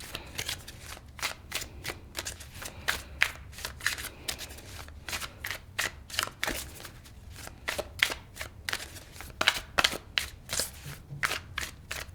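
Tarot cards being shuffled by hand, a long run of quick crisp riffling snaps in an uneven rhythm, close and fairly quiet, with no talking.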